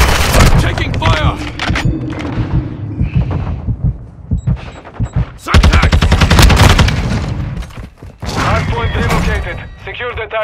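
Rapid gunfire and booming explosions from the Call of Duty Modern Warfare 2 video game, loud bursts of automatic fire with heavy thuds, in dense clusters separated by short pauses, with voices talking over the action.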